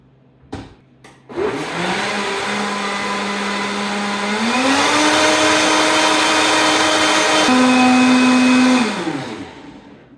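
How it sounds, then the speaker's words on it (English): A couple of clicks, then a blender whirs steadily for about eight seconds, mixing protein cheesecake batter. Its motor pitch steps up twice before it cuts off. "Pop on the top of the blender. And let's make a cake."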